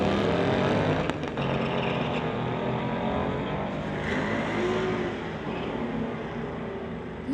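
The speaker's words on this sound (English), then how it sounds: "Going against the Camaro in the Lordco lane, Mustang versus Camaro." A Mustang and a Camaro drag racing side by side on a street-legal drag strip, loud engines roaring hard up close, a sharp burst near the start, then a slightly fading high-revving run.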